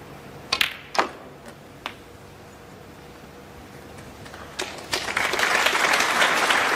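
Snooker match audience begins applauding after a clearance, with a few ball clicks and quiet table sounds before the steady clapping swells near the end.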